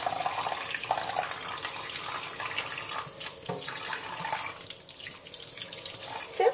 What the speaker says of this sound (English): Here's some nice lukewarm water.